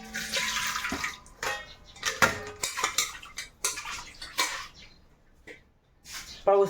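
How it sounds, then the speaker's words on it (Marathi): Metal clinks and clatters of a pot and vessel as leftover water is strained using a small metal water pot, with splashing water poured in bursts, close by and fairly loud. "थोडं राहिलं ते तांब्याने गाळून घेतो तांब्यात करून"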